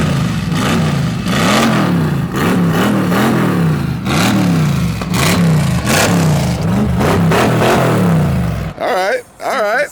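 A Pontiac Firebird V8 running a homemade quad turbo setup with the cooling fans off, revved repeatedly in loud rising and falling bursts, ending with a brief few blips.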